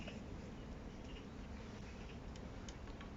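Honeybees buzzing around a small mini-hive (mini-ruchette) during smoking, a steady, dense insect hum over low background noise, continuous and fairly close, with no talking.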